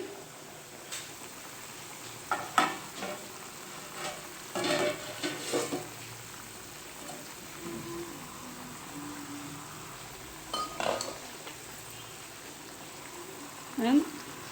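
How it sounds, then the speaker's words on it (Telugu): Tamarind pulusu simmers in a covered pot with a continuous low sizzling bubble, broken by a few louder clatters and stirring sounds, and someone talks intermittently over it. "కొద్దిసేపు ఉడకనిద్దాం దాన్ని చాలా బాగా మసులుతుందండి"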